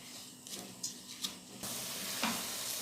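Fried lachha semai is stirred in boiling coconut milk and sugar. A few scraping clicks of the spoon give way to a steady, close bubbling hiss.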